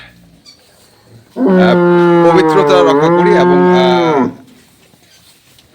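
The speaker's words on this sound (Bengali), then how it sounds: "এখানে বেশ কিছু দুধের গাভী গরু রয়েছে" Dairy cows on a Bangladeshi agro farm give one loud, long, close moo of about three seconds with a wavering pitch; faint speech is heard before it.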